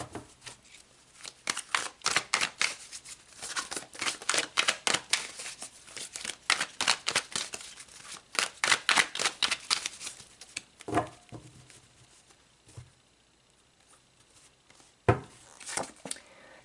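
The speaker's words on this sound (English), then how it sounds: "let's shuffle these back in and see if they come back out" Tarot cards are shuffled in repeated quick bursts of riffling and patter, close and fairly quiet, then slow to a few isolated card slaps near the end.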